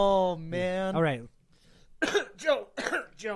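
A man coughs in a few sharp bursts between stretches of voiced sound, close to the microphone, with a brief quiet gap before the harsh coughs resume.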